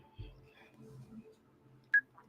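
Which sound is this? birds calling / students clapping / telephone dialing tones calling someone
telephone dialing tones calling someone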